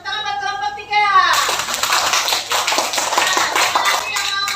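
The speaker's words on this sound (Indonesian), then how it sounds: "tepuk tangan buat kelompok 3" Children in a classroom clap together for a group after its presentation, a loud dense burst of applause that starts abruptly after a brief spoken moment and carries on steadily to the end.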